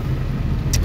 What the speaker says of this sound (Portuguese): Olha o trânsito, gente.